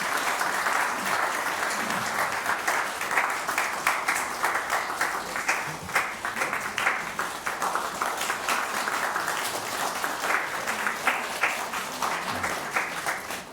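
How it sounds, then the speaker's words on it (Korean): Church congregation at a Christmas Day service clapping to congratulate a newly baptized child, a sustained crowd of hands beating in a dense, steady patter, moderately loud and even throughout, with no voices over it. "박수로 축하해 주시면 감사하겠습니다."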